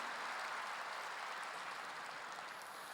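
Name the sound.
congregation applause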